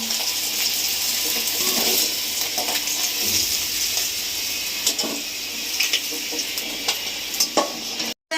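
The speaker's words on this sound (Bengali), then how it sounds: "দেখেন মাছগুলো ভালো ভাজা হয়ে গেছে, আমি তুলে নিচ্ছি" Pieces of rui fish fry in hot oil, giving a steady loud sizzle throughout, broken toward the end by a few sharp clinks and scrapes as the fish is moved.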